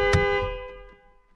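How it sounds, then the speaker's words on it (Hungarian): Car horn of an Alfa Romeo Brera sounding once during interior carbon fibre trim installation, a short loud honk that quickly fades, heard close and alone. "elvileg végig dudálni fogok közben"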